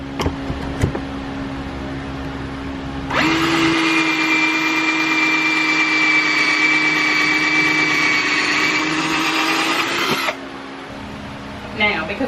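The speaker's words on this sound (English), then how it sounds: "we can actually just screw these right into the side" A power driver sinks screws into the side of a wooden sideboard, giving a steady, loud high whine for several seconds that stops abruptly, with talking around it.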